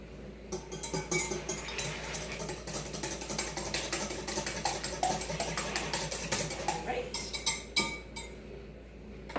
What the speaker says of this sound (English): I should probably whisk my egg first. Let me do that.